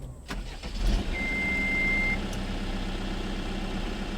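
A Case 580N backhoe loader's diesel engine starts up and settles into a steady idle nearby, with a brief high electronic beep right after it fires.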